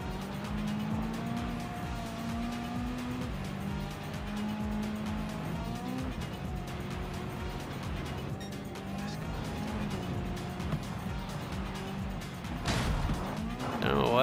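A Toyota GR86 rally car in Gran Turismo 7 on a rally course roars continuously with shifting engine revs, gear changes and tire squeal, loud and close, while a person talks over it.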